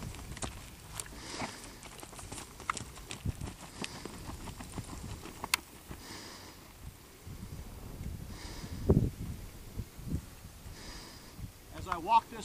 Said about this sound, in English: As I walk this horse out,